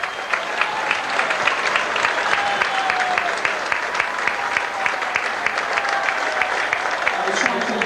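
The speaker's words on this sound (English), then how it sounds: "round of applause" A large stadium crowd at a 2004 Bradford versus Castleford rugby league match applauds steadily as a player leaves for the bench, a dense, continuous clapping with a commentator's voice faintly underneath.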